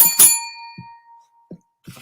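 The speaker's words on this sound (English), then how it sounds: "Okay, that bell wasn't on full power." A single bright bell strike rings out with a clear sustained tone that decays over about a second, followed by a few soft dull thumps, with no talking.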